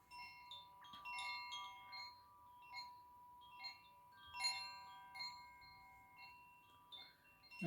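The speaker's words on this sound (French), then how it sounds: "Donc voilà, un petit carillon comme ça." Soft, scattered metallic chimes from a Koshi wind chime ring out one after another with long shimmering tones, fairly faint and unhurried, with no voices.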